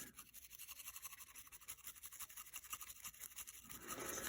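Bristle brush scrubbing the breech face of a Sig Sauer pistol, a quiet rapid back-and-forth scratching in steady strokes, close but faint, ending in a brief louder rustle.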